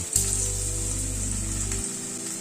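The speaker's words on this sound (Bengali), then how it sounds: "আলুটাকে লাল করে ভেজে নিলাম।" Potatoes frying in oil in a pan, a loud continuous sizzle with a steady crackle close by and no voices.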